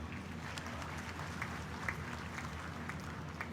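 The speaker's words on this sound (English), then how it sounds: "A round of applause for all of them." Graduation audience at the LUMS convocation applauding as a steady, faint wash of many hands clapping, heard from a distance without voices.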